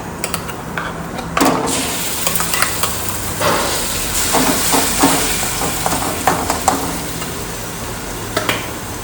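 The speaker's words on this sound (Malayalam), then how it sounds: "ഇനി നമുക്ക് അരച്ചു വെച്ചിരിക്കുന്ന ചമ്മന്തി ഇതിലേക്ക് ഇട്ടു കൊടുക്കാം." Ground coconut chutney paste hitting a hot pan for a South Indian chutney to serve with idli and dosa, giving a steady loud sizzle with scattered crackles and stirring scrapes throughout, with no talking.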